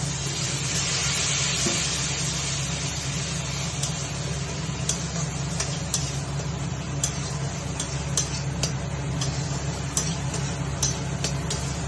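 Spice paste with Kashmiri chili powder and a little water frying in a pan, a steady soft sizzle with faint scattered ticks and stirring clicks throughout, no talking.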